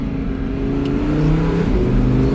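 An Audi R8 V10+ Spyder's engine revs from the driver's seat, a loud close roar whose pitch climbs and shifts between gears in quick succession.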